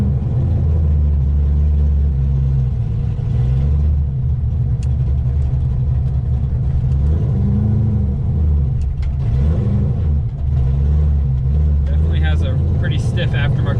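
A drift Corvette with a stiff aftermarket clutch rolls out of a driveway, its engine a deep continuous rumble close by, with a voice talking over it.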